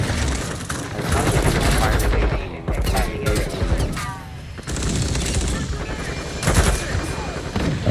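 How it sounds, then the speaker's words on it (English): Several loud, close Desert Eagle pistol shots ring out in irregular bursts, sharp booming cracks with ringing tails, one heavy blast near the end, amid background chatter and noise. "It is not the most friendly of guns to use."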